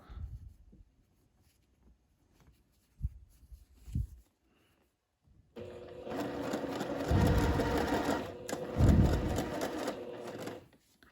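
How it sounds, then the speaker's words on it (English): A sewing machine top stitches a folded fabric hem with ric rac trim, starting after a few soft handling clicks and then running in steady, loud bursts that rise and ease for about five seconds. "I'm just top stitching this hem into place so that all the seams are enclosed."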